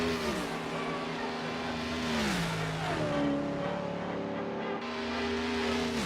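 A 1930s prewar race car engine in the Assetto Corsa video game whines and revs through rising and falling gear shifts, a continuous high-pitched mechanical drone with several sharp pitch drops.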